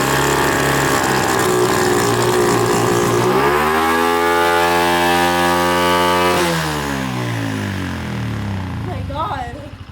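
A Honda CRF70F dirt bike engine fires up and revs loudly, its pitch rising then falling and sliding down as it idles off, running close and unbroken before fading near the end.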